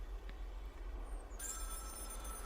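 A phone rings in Project Looking Glass, a high electronic ringing that starts partway through and holds steady over a low ambient drone, no one talking.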